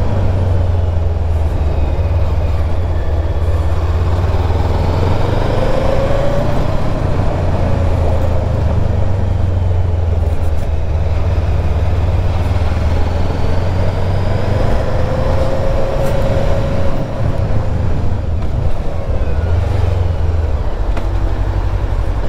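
Voge 500AC motorcycle ridden on open road, a steady engine drone with low rumble and wind noise holding at a constant loud level throughout, no talking.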